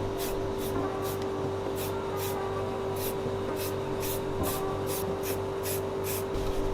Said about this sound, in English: I'm going to spray it on the frame until I get close to my brake pads